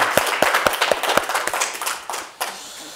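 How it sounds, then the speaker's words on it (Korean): A small gathering at a study meeting on the Tao Te Ching claps together, a handful of sharp, distinct claps in a loose rhythm at first, then thinning into scattered final claps over three seconds. "박수 한번 칩시다"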